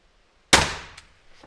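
A TenPoint Viper S400 crossbow fires one sharp, loud shot with an abrupt crack and a quickly fading twang, followed by a faint small knock a moment later; the surroundings are otherwise quiet.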